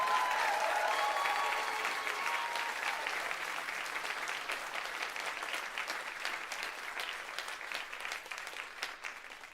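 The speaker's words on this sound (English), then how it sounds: "go ahead and applaud" Audience applause at the CONvergence 2025 convention closing ceremony, a full burst of clapping from a large crowd that slowly thins and fades over several seconds.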